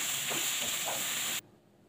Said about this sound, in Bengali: তারপর ভালোভাবে নেড়ে ছেড়ে নেব।